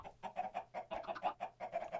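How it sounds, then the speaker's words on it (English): Minecraft chickens cluck in a steady, rapid string of short, fairly loud clucks that overlap in a busy flock, with no talking. "we're getting loud around the chickens"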